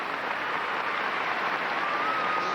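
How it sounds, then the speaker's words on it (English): Arena crowd at a 1984 international gymnastics meet applauding a men's vault landing, a steady sustained wash of clapping heard from a distance, loud and even throughout, with no talk over it. "you can hear the crowd reaction in the background"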